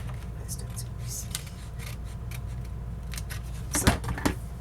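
Scissors snip through scrapbook paper in a quiet handcrafting session, with soft irregular cuts and crisp snips growing more distinct near the end, close to the listener over a low background hum.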